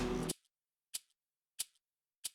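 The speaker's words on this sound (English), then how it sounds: "I then add this percussion sound which acts as a hi-hat." A short percussive hit used as a hi-hat in a beat: after a brief burst of sound at the start, three crisp, bright ticks repeat evenly, close and clean with a tiny echo tail.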